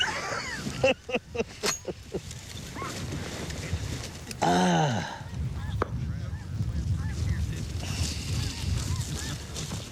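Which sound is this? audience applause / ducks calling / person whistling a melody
ducks calling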